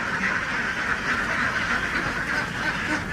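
Ducks on a duck farm, a dense flock quacking continuously in a steady, overlapping chorus at close to medium range.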